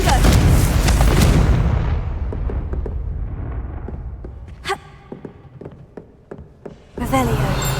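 A Confringo blasting spell explosion in Hogwarts Legacy, a loud booming burst that decays over a couple of seconds, followed by faint scattered game sounds and a second loud burst near the end.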